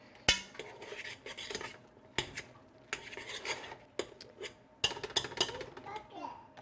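Potatoes are mashed with butter and cream in a pot: quiet, irregular clinks and scrapes of a utensil against metal, with short sharp knocks and soft squelching in between, close by and fairly faint.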